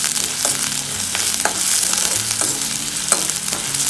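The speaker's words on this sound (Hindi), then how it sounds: "अनियन हल्का सा पिंक हो जाए जब तक हम इसे फ्राई करेंगे।" Coarsely chopped onion fries in a pan with a loud, continuous close sizzle, broken by regular scrapes of a spoon stirring the pieces.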